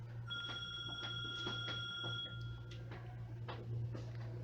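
A phone rings faintly in a quiet room during a lecture, a sustained electronic tone with regular ticking pulses, low and steady under a constant background hum.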